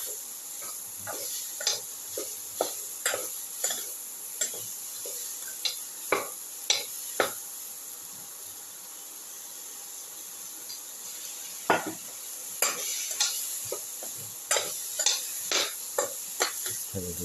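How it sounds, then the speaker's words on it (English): Eggplant pieces sautéed and stirred in a pan: a spoon scrapes and taps against the pan in irregular bursts over a soft, constant sizzle, with a quieter pause midway before the stirring resumes. "Thoroughly saute and mix."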